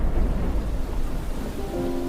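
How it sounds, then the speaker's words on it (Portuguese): Thunder rumbles low and steady alongside falling rain, a dense storm wash with no voices, ending in a faint sustained tone. "Ouviu-se o estampido do trovão e o lampejo do relâmpago."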